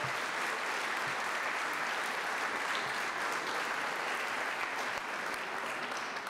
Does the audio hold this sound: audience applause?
yes